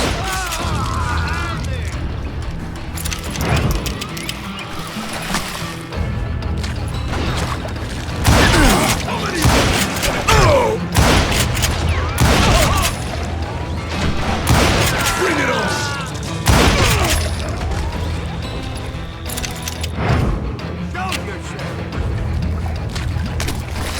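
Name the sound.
gunfire volley from Call of Juarez: Gunslinger video game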